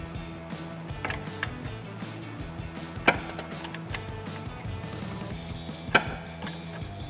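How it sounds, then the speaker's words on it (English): A 15mm wrench working the top nut of a Jeep Wrangler TJ shock during a lift kit install: near metallic ratcheting and creaking turns, with two sharp clanks standing out. "the next thing we're going to do is unbolt the top so we can completely remove it"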